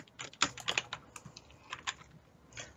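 Fast, hard typing on a computer keyboard, with dense clusters of sharp key clicks and clacks in quick irregular bursts, fairly close and quiet overall, with no voices.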